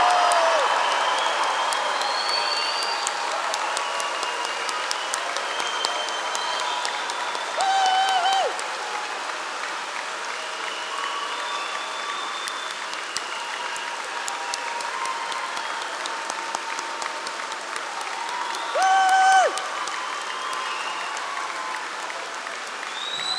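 A graduation audience at the Barbican Centre in London gives the graduates a long, steady round of applause that fills the hall evenly, with faint cheers and brief whistle-like tones rising through it.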